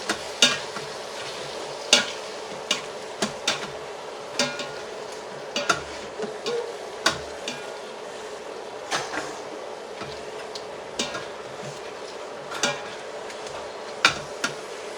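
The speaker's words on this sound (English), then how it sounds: "take a potato masher and mash your beans" Pinto beans being mashed with a potato masher for chili dog sauce, giving repeated soft, wet squishing and clacking strokes at an irregular pace throughout, fairly close and moderately quiet with no voices.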